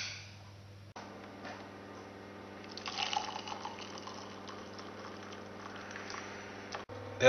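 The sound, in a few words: pouring milk into tea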